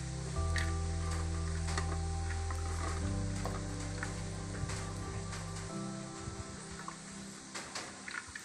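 Onion, crushed garlic and ginger sizzle steadily in hot coconut oil in a pan, a continuous close frying hiss with low background hum throughout.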